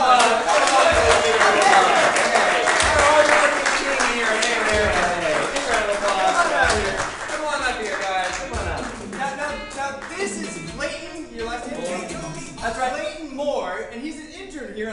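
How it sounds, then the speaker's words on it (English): A live comedy stage audience bursts into loud, sustained applause and cheers that gradually thin out, with a host's voice and background music underneath. "let's give him a big round of applause"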